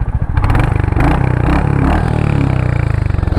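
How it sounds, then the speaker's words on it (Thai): A Royal Enfield Hunter 350 motorcycle's exhaust booms up close, with a deep thumping idle that swells into a short rev and then settles back into a pulsing, uneven single-cylinder beat. "ฟังเสียงท่อฮะ"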